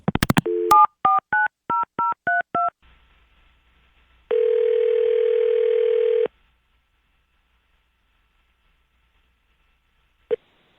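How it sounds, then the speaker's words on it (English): Touch-tone telephone dialing: a burst of quick beeps, then a run of about nine distinct DTMF key tones in steady rhythm, a pause, a long single ringback tone lasting two seconds, and a short final tone, all clear and close. "So we're going to try to call her up on our phone and see if we get better results."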